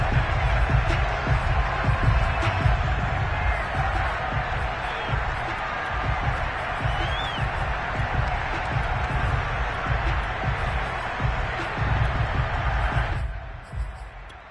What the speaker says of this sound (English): And the home crowd loves it.